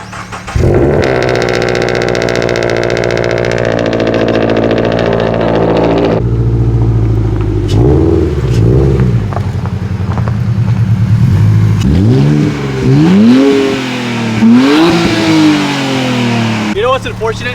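Subaru BRZ with a full straight-pipe exhaust starting, idling and revving hard, loud and close, with repeated rising and falling revs toward the end and speech heard at times.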